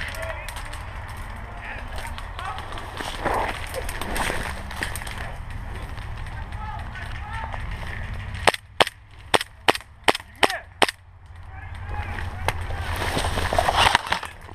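Airsoft gun shots at an outdoor skirmish game, a rapid string of about seven sharp, loud snapping pops in quick succession near the end, with players shouting and talking in the background.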